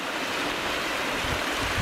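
Rushing water of a creek along a trail near Dead Horse Falls in Descanso, California, a steady broadband roar close by, with no voices.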